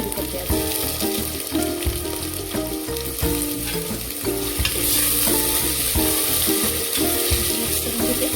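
Khichdi being stirred and mixed in a hot pan, with a continuous sizzle and scraping spoon strokes against the metal, close and steady throughout with no talking.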